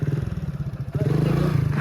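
A motorcycle stuck in a sugarcane field runs with a rough, pulsing engine note that rises as it is revved, loud and close, with some clattering and scraping and no talk.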